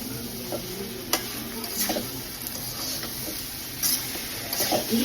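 Spices and tomato sautéing together in a pan for dhokar curry, a soft, steady sizzle with scattered scraping stir strokes and light clinks of a utensil against the vessel, close and moderately loud, no one talking.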